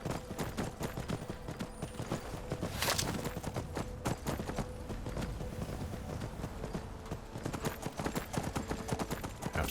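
Horse hooves clip-clop in a steady, continuous rhythm while riding in a video game, fairly soft and set against a busy ambient background.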